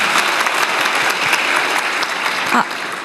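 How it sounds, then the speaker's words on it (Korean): An audience at a future-scientists dialogue event applauds a young researcher, steady dense clapping from a full room that carries for three seconds before easing off slightly at the end. "박수 한번 주세요"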